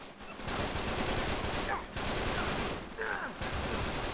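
Sniper and rifle fire crackle through a firefight in the video game Uncharted 3: Drake's Deception, sustained bursts of shots with brief lulls between volleys.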